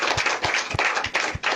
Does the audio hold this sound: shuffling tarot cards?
no